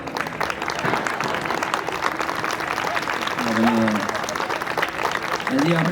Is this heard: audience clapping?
yes